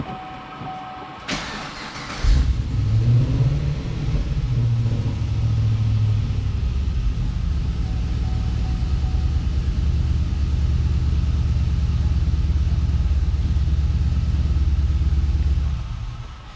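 A GM LS V8 fitted with drive-by-wire individual throttle bodies cranks over and catches, then settles into a loud, steady, slightly rough and fluttery idle that holds for over a dozen seconds before cutting off.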